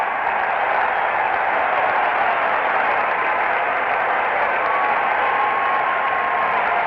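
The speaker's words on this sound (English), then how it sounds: "Standing ovation for Bob Gibson. He has just tied a World Series record." Crowd at the 1968 World Series baseball game giving a standing ovation, a loud, sustained wash of applause and cheering filling the whole stretch without letup.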